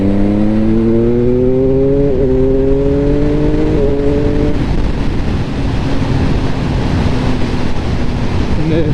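A Triumph Speed Triple 1050 RS motorcycle pulls hard through the gears, its engine note climbing and dropping at each shift before settling into a steady run under heavy wind rush.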